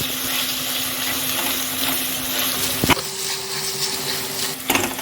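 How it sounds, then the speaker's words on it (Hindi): Finely chopped tomato frying with garlic and ginger for vegetable pulao: a loud, continuous close sizzle with a low steady hum and a couple of sharp utensil knocks, no voices. "ये भी डाल देंगे और टमाटर को नरम होने तक भूनेंगे"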